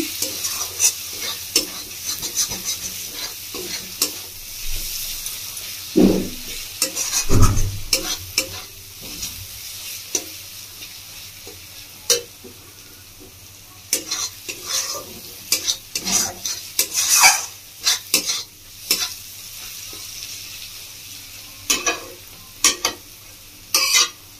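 A spice paste for Bengali-style whole urad dal is stir-fried in a pan, with steady sizzling and frequent sharp scrapes and clicks of the spoon against the metal, close and fairly loud, without talk.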